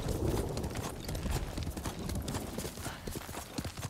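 A horse's hooves clip-clopping in the Ghost of Tsushima video game, a dense run of close, fairly loud hoofbeats with steady background noise and no talk.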